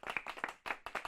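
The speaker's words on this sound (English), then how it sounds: "The room breaks out in polite applause." A short burst of light clapping from a small group, uneven and modest, fading in and out over about a second.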